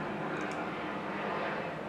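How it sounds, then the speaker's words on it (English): Airplane passing overhead, a steady broad roaring drone holding at even level throughout, fairly distant with no voices. "Just gonna wait for this plane to move."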